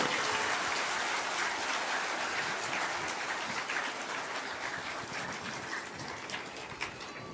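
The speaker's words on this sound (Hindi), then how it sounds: "एक बार सभी एक दूसरे के उत्साह वर्धन में तालियों की गड़गड़ाहट करें।" An audience at a spiritual gathering applauds in a steady, dense wash of clapping that stays fairly even and somewhat distant, slowly fading a little toward the end.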